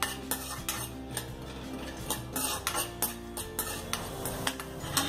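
Cashews fry in ghee in a pan for a mango sheera while a metal spoon stirs and scrapes them, giving a quiet sizzle under regular clinks and taps of close utensil strokes.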